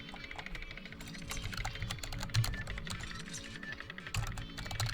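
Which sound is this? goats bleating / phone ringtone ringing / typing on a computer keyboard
typing on a computer keyboard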